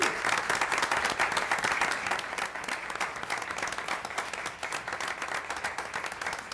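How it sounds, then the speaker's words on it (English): An audience at a school board meeting gives a dense, sustained round of applause honouring a girls' team. Many hands clap steadily for several seconds at even loudness, with faint murmuring underneath. "give them a round of applause"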